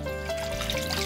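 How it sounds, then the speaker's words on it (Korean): Water trickles steadily from a bathtub, a continuous close babbling stream heard alone. "욕조에서 졸졸 새어나오는 물"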